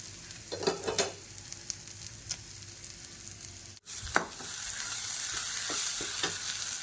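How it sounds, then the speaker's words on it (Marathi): Marinated paneer fries in hot oil with a steady close sizzle that swells after the pieces go in, along with a few clinks and stirring sounds and no talking. "आता हे मॅरिनेट केलेलं जे पनीर आहे ना तर आपण ते थोडंसं फ्राय करून घेऊ तेलामध्ये"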